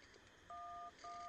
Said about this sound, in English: I'm calling you.